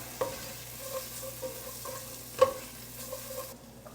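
Mushrooms and onions sit heating in a pan, giving a quiet, low sizzle with a few soft stirring knocks and one sharper clack near the middle. No one speaks.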